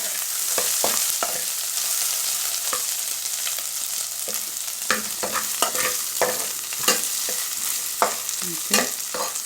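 Hot dogs frying in a pan for macaroni, a loud continuous sizzle with frequent scraping stirs and clicks of a utensil, no voices.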